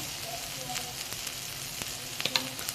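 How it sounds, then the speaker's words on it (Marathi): Black masala spice mix roasts in a pan for a spicy brinjal curry, giving a quiet, steady sizzle broken by a few sharp clicks and light scraping taps near the end. "हे तोवर भाजतोय, आणखी थोडं 5 मिनिटं भाजून घेऊ"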